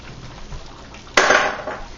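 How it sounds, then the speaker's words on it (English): A spoon stirring tomato sauce into a pot of brown stew chicken: quiet at first, then a sudden scraping clatter of metal against the pot that fades over a second. "I'm going to stir this in"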